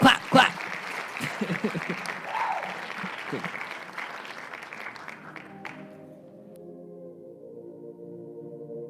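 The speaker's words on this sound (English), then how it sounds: "Clap." Clapping from a small group during a live hip-hop radio stream, a brief burst mixed with chatter and a short spoken word, then fading out as a sustained tonal music bed takes over.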